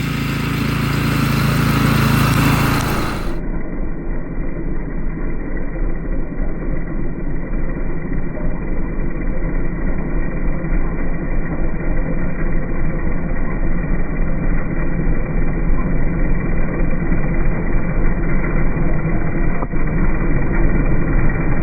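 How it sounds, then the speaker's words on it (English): A 25-inch California Trimmer Catalyst scarifier turf rake runs across a lawn with no grass catcher fitted: a loud, steady mechanical drone with dense rumbling and whirring, continuous and close throughout. "I'm actually going to use the Scarifier or the turf rake without the grass catcher"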